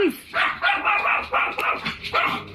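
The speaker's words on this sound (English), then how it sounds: "setting off the dog alarm." A dog barks in an eerie indoor scene after a knock at the door, with several loud, close barks and yips coming in quick, uneven bursts.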